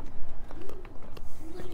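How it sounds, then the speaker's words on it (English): Pigeons coo softly from under a footbridge in a city, low repeated calls that are faint against outdoor background noise. "Hear the pigeons under the bridge."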